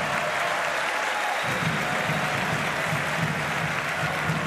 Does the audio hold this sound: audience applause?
yes